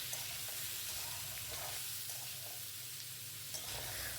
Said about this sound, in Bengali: লবণ হলুদ দিয়ে ভালো করে সমস্ত কিছু মিশিয়ে নেব